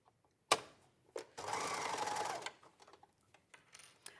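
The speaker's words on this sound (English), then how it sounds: "sew this on a machine" Sewing machine stitching a 1.5 cm seam in fabric, one steady whirring burst of about a second, framed by clicks and handling noises, close and clear.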